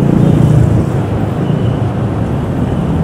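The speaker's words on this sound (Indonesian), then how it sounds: "Macet campur aduk. Campur motor, campur becak, campur ini semua." Congested Surabaya street traffic, a mix of cars, motorcycles and becak pedicabs, as a steady dense rumble of engines and road noise with no voices.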